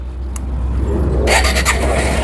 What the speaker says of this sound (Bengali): এই যে ইঞ্জিন সাউন্ডটা দেখেন একদম স্মুথলি সাউন্ড স্মুথ সাউন্ড আছে গাড়িটার